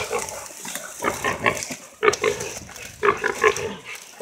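A hog caught by hunting dogs grunts and squeals repeatedly at close range, in irregular bursts with short pauses between them.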